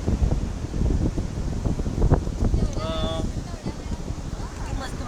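Sea waves washing in and out on the Konkan coast, a continuous broadband wash with wind noise on the microphone, close and steady, while people talk over it.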